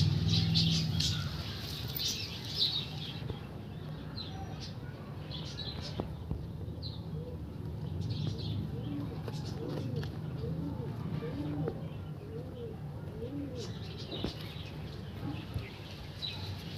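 Andhra pigeons coo in a repeated, rolling rhythm at moderate distance, with soft wing flutters and faint voices in the background.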